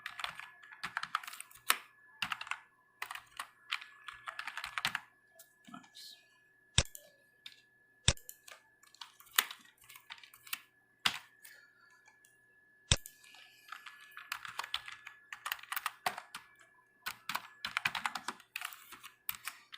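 Crisp keystrokes on a computer keyboard as information is typed into a table in MS Word, coming in short clustered bursts with pauses, while a person speaks intermittently.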